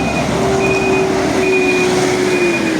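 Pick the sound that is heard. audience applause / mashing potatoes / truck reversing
truck reversing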